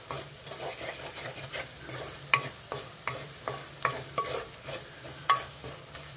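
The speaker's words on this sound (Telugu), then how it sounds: "ఈ మసాలా వేగిపోయింది." Masala for a gongura curry sizzles gently in a pan while a spoon scrapes and stirs in a regular rhythm of soft knocks, close by and with no one speaking.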